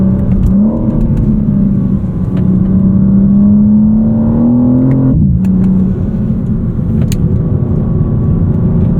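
A 2025 BMW M4 CS accelerates hard on a race track. Its loud engine note climbs steadily in pitch, drops sharply at a gear change, then pulls again, with no talking over it.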